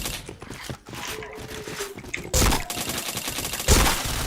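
Gunfire in an online video game shooter, with a run of rapid shots and mechanical clicks followed by two louder bursts, close and punchy with no talk over it.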